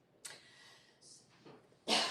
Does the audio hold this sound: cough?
yes